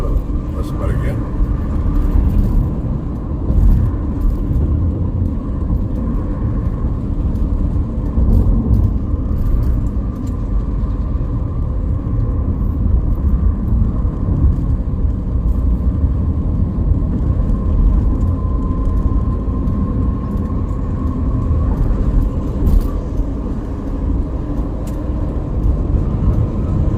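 Steady road traffic on the Cipali toll road in West Java, a continuous low rumble of cars and buses passing at moderate distance with broadband engine and tyre noise throughout, while a voice talks over it.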